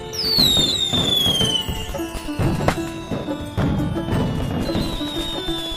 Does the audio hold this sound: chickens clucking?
no